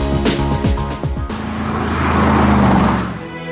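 Mercedes SLR McLaren supercar with a supercharged 5.5-litre V8 accelerating hard through quick rising gear pulls, then a loud sustained roar as it sweeps past.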